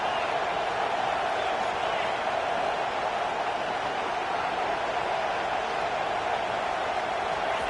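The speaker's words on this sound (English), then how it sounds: "the crowd really getting into it" A crowd at an Ohio State versus BYU college football stadium roars steadily on third down, a dense, unbroken wash of noise beneath commentary.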